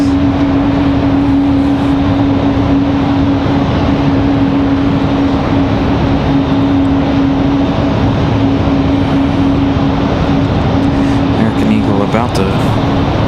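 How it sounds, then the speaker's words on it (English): An Airbus A220 airliner taxis slowly at Raleigh-Durham International Airport, its engine holding a steady, continuous drone with a sustained whine, constant and fairly loud throughout. "Holding that engine in just the right sweet spot so that the sound continues."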